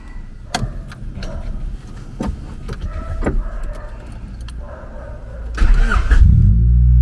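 Honda Civic EG with a B18C Type R engine being started: keys jangle and the starter cranks before the engine catches and settles into a loud, close idle.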